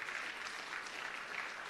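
An audience at a ministry rebranding and quality recognition event claps steadily, a dense, even wash of applause filling the whole short stretch.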